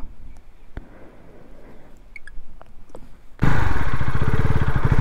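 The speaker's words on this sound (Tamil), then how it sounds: "வண்டி ஸ்டார்ட் ஆயிடுச்சு" A KTM Duke 250 Gen 3 motorcycle engine starts abruptly after a few quiet seconds, settling into a loud, steady, close idle.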